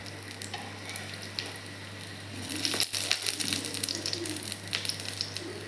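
Besan-coated bread toast frying in a pan gives off a soft, steady sizzle with faint crackles and pops, quiet and close, plus a low electrical hum underneath and no talk.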